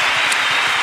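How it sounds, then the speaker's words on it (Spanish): An audience breaks into dense, steady applause at a live comedy podcast show, loud and continuous with many hands clapping at once. "¡Aplauso para Marta y Maragall!"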